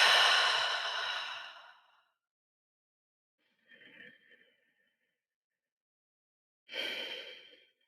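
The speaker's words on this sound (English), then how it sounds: "we're going to breathe in and we're going to breathe out" Slow, deep breathing during a guided meditation: a long audible exhale, then a faint soft breath, then another airy breath after a silence, close and unaccompanied.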